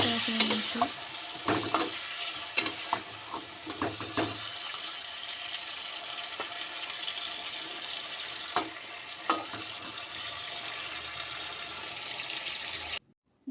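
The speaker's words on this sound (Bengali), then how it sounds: "তারপর ভালোভাবে এটা নাড়াচাড়া করে নিচ্ছি।" Salted tomato chutney cooks in a pan while being stirred, with a low continuous sizzle and intermittent spoon scrapes and knocks, fairly quiet, ending in sudden silence.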